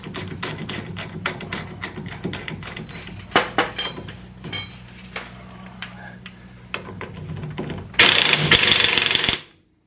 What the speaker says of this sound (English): we're going to put the axle nut back on.